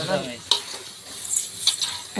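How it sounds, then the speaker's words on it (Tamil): Country chicken sizzles steadily in hot masala in a pan while a spoon stirs and scrapes, with a few light metallic clinks, heard up close. "மசாலாவோட நாட்டுக்கோழி சேர்த்து நல்லா கலந்து விட்டுப்போம்"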